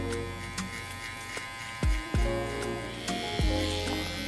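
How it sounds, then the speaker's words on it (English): Electric hair trimmer softening a curly high taper cut at a barbershop, a close, steady buzzing hum with shifts in pitch as the blades meet hair. "With our trimmer, we're just gonna go ahead and just soften the line a little bit."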